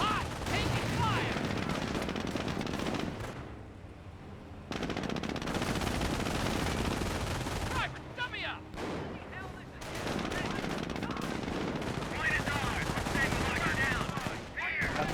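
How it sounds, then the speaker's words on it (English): Heavy gunfire and rifle grenade blasts from a Company of Heroes battle come in loud, dense bursts. The barrage pauses briefly several times and then resumes, with game voices calling out in the mix. "Rifle grenades firing away."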